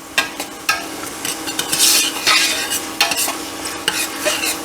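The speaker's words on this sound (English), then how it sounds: "we'll just saute that a little bit, give some of that really raw garlic" Garlic sautés in a pan for Sunday sauce, a close sizzle and frying hiss broken by repeated scraping stirs of a utensil against the pan, with a louder burst of sizzling midway.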